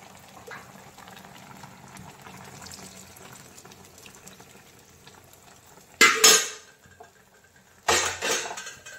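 A yogurt container is rinsed out with water into a cooking pot of Bengali doi chicken, giving two short, fairly loud splashing pours near the end after a stretch of quiet kitchen background.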